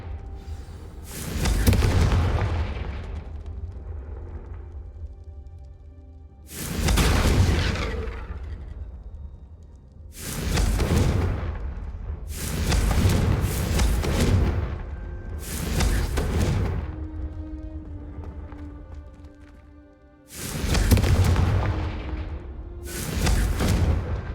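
Confringo fire spell explosions from the video game Hogwarts Legacy, a series of about seven loud, deep booming blasts spaced a few seconds apart, each with a rumbling tail, over low game music.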